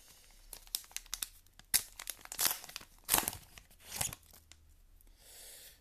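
Naruto Kayou trading card packs being opened, with a run of crisp foil crinkles, tearing rips and rustling handling noises in bursts close to the mic, no talking over them.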